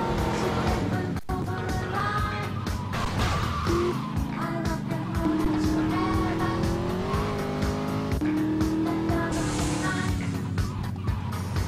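A car in GTA Liberty City Stories drives continuously with a loud engine and repeated tire squeals over a dense mix of game music and effects, filling the whole stretch without pause.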